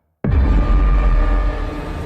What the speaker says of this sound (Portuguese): O motor do barco roncava suavemente, cortando as águas escuras.